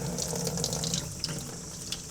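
Tap water runs steadily into a sink while gray wool Nike Foamposite Pro shoes are rinsed, a continuous hissing splash that shifts slightly as the shoe moves under the stream, with no voices.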